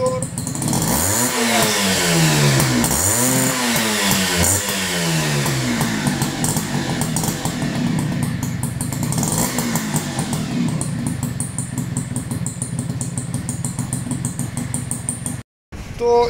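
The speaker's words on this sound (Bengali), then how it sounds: "তো ইঞ্জিনের সাউন্ড কিন্তু একদম সুন্দর।" A Honda H100S motorcycle engine with a CDI ignition runs steadily and close by, revving twice early on before settling into an even idle that continues for the rest of the clip, cutting out briefly near the end.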